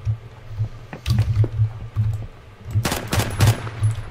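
Rapid automatic gunfire in the video game Phantom Forces, repeated bursts of fast, punchy shots with a denser, louder cluster near the end, with no talk.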